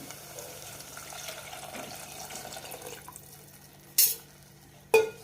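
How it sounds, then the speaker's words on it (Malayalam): Cold water runs steadily into a pot for Ambur kuska biryani rice for a few seconds, then stops; two sharp clanks follow near the end. "ഇനി ഇതിലേക്ക് വെള്ളം ഒഴിക്കാം"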